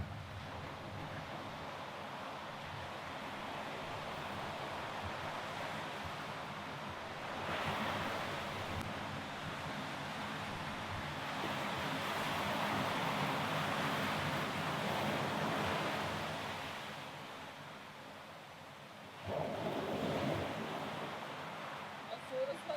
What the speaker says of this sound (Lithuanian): bangos labai didelės taip